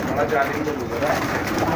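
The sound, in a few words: pigeon cooing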